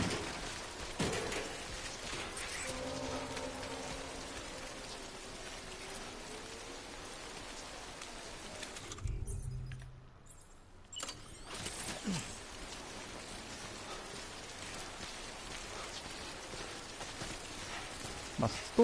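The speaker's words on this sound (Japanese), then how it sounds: "また降ってきちゃった雨が" Rain falling in a video game, a steady hissing patter with occasional mechanical clicks, briefly cutting out near the middle before resuming, with faint voices and game sounds underneath.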